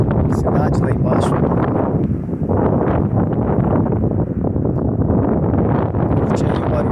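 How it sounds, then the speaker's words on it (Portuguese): Strong wind roars high above a city, buffeting the microphone in loud continuous gusts with rumbling low blasts and rustling bursts throughout. "Curte aí o barulho do vento."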